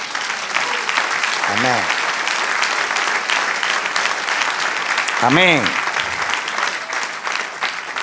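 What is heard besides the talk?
church congregation applause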